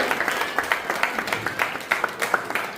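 Applause for quiz participants and their parents at a Jain community event, a light patter of hand claps with irregular sharper peaks running steadily throughout, moderately loud and fairly near.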